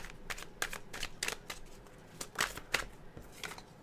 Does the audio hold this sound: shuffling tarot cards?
yes